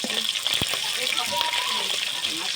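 Water hits a hot pan of frying snakehead fish with a loud, continuous hiss and gush, steady throughout, with a few sharp pops and splatters.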